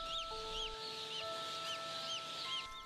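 Many broiler chicks at a hatchery peep in high, repeated chirps that overlap continuously, with a steady mechanical hum running underneath.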